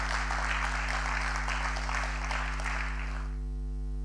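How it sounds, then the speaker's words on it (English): A congregation at a lunch-hour church service claps hands in a fast, dense patter that cuts off after about three seconds, leaving only a low steady electrical hum. "Clap your hands, somebody, and celebrate God."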